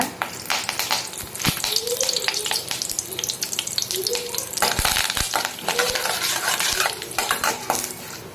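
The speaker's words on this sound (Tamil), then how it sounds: "கடுகு நல்லா பொரியட்டும். கருவேப்பிலை போட்டுக்கோங்க." Mustard seeds, chana dal and urad dal crackle with curry leaves in hot oil for semiya upma, a busy close sizzle with sharp pops, broken by spatula stirring and clinks of the pan.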